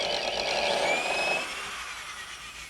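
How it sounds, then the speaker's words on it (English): A power drill boring into a wall through a small pre-drilled hole, a steady close whirring grind that eases and quiets partway through. "So let's start the drill in the hole."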